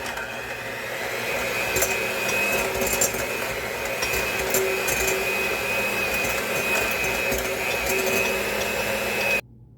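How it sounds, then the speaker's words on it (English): Butter being creamed in a bowl with an electric mixer, making a steady whirring drone that runs unbroken for about ten seconds and then cuts off abruptly. "Now let's just cream this butter together."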